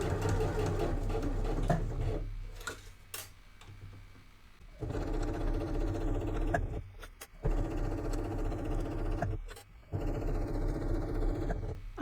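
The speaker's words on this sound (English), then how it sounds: "So a couple of stitches to reverse towards my edge and then start sewing." A domestic sewing machine runs in bursts as it stitches fabric, with a steady mechanical whir and needle rhythm that stops and restarts several times, close up and with no talking.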